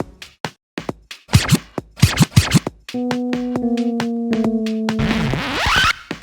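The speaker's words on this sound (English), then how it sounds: "You can be a DJ for the nightclub and you get to make your own song." Short synthetic electronic beats and blips from the Club Penguin nightclub DJ game play in a quick rhythm, then sustained synth tones and a swooping scratch effect, like a simple game-made dance track.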